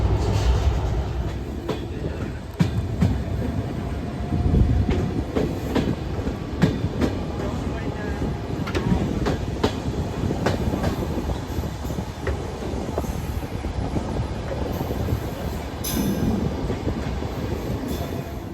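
Ruposhi Bangla Express running from Dhaka to Jashore, heard from inside a passenger car as a steady rumble with rhythmic clickety-clack of wheels on rail joints and occasional faint squeals, no talking.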